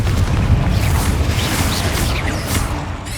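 A Bombarda spell explosion in Hogwarts Legacy on PS5, a loud, deep rumbling boom that fills the whole span and tails off slowly, with crackling debris on top.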